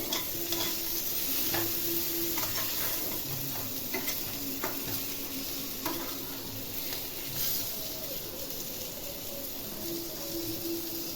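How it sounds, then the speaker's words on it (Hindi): Pointed gourd frying in a pan gives a continuous sizzle with frequent scraping stirs and light clicks of a spatula on metal, all fairly loud and close, with no talking. "इसे मैं ढक कर फ्राई करूंगी ताकि हमारा पटल इसमें गल जाए अच्छे से"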